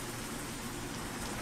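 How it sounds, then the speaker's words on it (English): Rain during a nighttime truck drive in American Truck Simulator, a dense steady patter and hiss filling the whole moment at even loudness, with no voices. "Nighttime drive while driving in the rain."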